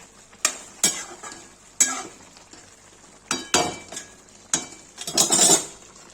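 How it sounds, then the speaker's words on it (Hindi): Cauliflower in a white gravy fries in a pan while a metal spoon stirs it, giving sharp scraping clinks at uneven intervals over a soft sizzle, close by with no talking. "गाइस देखिए, वाइट ग्रेवी गोभी बना रही हूँ। भूंज रहा है, भून जाएगा"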